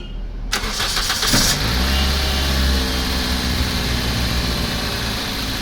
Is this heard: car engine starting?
yes